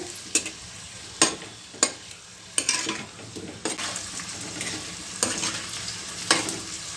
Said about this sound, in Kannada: ಸ್ವಲ್ಪ ಖಾರದ ಪುಡಿ ಇದನ್ನು ಚೆನ್ನಾಗಿ ಸ್ವಲ್ಪ ರೋಸ್ಟ್ ಮಾಡ್ಕೊಳ್ಬೇಕು